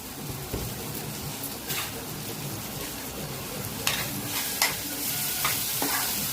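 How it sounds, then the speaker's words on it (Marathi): Tomatoes cook in hot oil with chili powder as a spoon stirs the pan, a continuous soft sizzle broken by a few sharp scraping strokes against the metal, close and steady. "हे बघा टोमॅटो आता चांगला शिजलाय तेलामध्ये. आता आपण टाकणार त्याच्यात तिखट."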